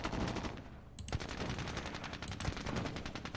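Gunfire pours into a building in the Vietnam-era game Squad Battles Vietnam during the battle of Hue City, with sharp repeated automatic bursts and distinct louder shots cracking over a steady background of firing.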